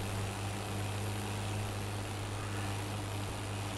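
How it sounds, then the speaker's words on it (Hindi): Steady, continuous hum of a tractor engine in Farming Simulator 22, running in high gear with a low, even drone and a broad hiss on top, holding constant throughout with no voices. "अभी तो चक्कर पूरे चल रहे हैं ट्रैक्टर के।"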